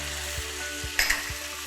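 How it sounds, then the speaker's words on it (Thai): Chicken stir-fried with cashew nuts, sugar, light soy sauce and sesame oil in a pan, a steady close sizzle with rhythmic scraping strokes of the spatula and a couple of sharper clinks. "ก็คลุกเคล้าให้เข้ากันค่ะ"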